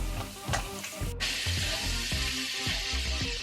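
A vegan burrito scramble sizzles steadily in a hot pan with spices, broken by repeated scraping, knocking stirs of a utensil throughout.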